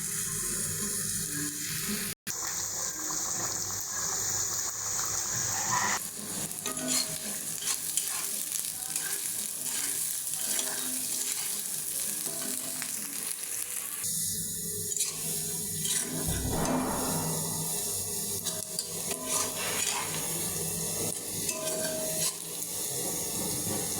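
Chopped garlic, onion and ginger fry in hot oil in a pan, a continuous close sizzle with intermittent stirring scrapes and bursts of crackle over the whole stretch.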